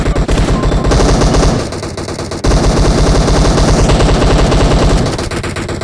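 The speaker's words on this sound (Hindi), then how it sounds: "शॉट आने लगते हैं, गन शॉट्स।" Rapid automatic gunfire in the PUBG Mobile shooter game, loud sustained bursts of shots with a brief dip in the middle before firing resumes at full intensity.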